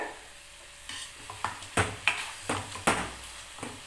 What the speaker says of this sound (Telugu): సో ఇలాగా మ్యాష్ చేసిస్తాం ముక్కలు లేకుండా